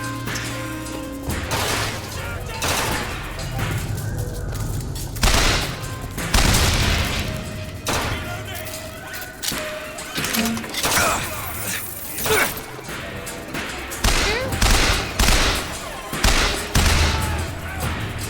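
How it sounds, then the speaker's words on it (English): Rapid bursts of machine gun fire in the shooter game Bioshock Infinite, repeated crackling volleys with booming impacts and clanking mechanisms throughout, loud and continuous with brief lulls. "I'm happy the machine gun is accurate as fuck."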